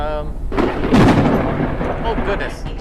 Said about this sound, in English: Lightning strikes the highest targets.